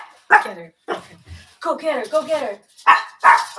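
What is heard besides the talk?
dog barking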